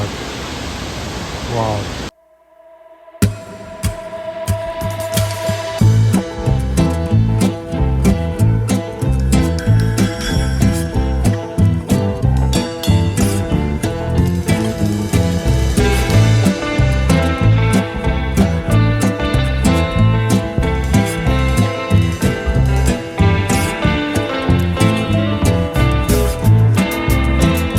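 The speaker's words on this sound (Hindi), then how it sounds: "इतना बड़ा वाटरफॉल है और इतना एग्रेसिव है।" The large, aggressive Bahubali waterfall near Tawang sends up a loud, steady roar of rushing water, a dense continuous wash after a brief break near the start, with someone speaking excitedly over it.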